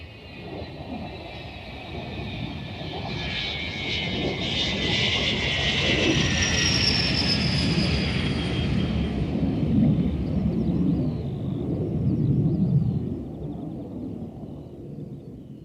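A jet airliner roars past as a sound effect in a hospital pantomime of Aladdin, its whine rising and sweeping across for about fifteen seconds under a broad, loud engine rumble before fading, with no voices.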